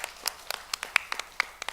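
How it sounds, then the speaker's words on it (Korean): A church congregation claps together in a steady run of sharp, separate claps during a Sunday service. The claps are moderately quiet and fairly evenly spaced, with no voices over them. "하나님께 영광의 박수를 드리겠습니다"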